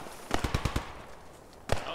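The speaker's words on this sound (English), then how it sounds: "Okay, let's follow the gunfire." Gunfire in the Post Scriptum war game: a rapid burst of about five automatic shots, then a pause and one more loud crack, fairly close and sharp.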